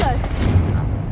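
A Confringo blasting spell explodes in Hogwarts Legacy, a loud, close booming burst with a rumbling low tail over busy game noise and faint voice.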